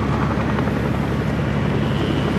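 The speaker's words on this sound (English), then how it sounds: "Big ass heli over there that just" Helicopter passing overhead outdoors, a steady, loud, dense rotor and engine roar that fills the whole stretch without a break.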